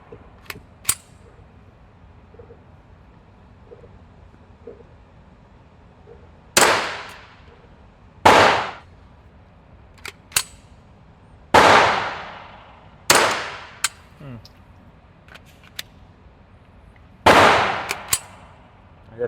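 An AR-22 rifle fires CCI 40-grain .22 rounds outdoors, giving five sharp, loud cracks spaced a couple of seconds apart, each with a short decaying tail, plus a few fainter clicks and pops between them.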